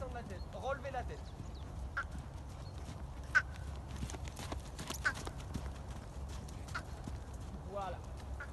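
Horse hooves trot in a steady, even rhythm during carriage-driving training at a harness workshop, moderately near, with occasional snorts and someone speaking French at times.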